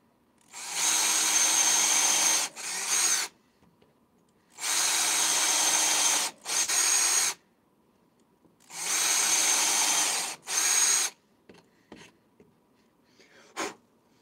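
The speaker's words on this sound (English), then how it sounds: "we will just start drilling our holes" A power drill boring holes into wood for a homemade dog feeder, three long bursts of steady whirring, each with a short second burst, separated by silence, and a few light clicks and knocks at the end.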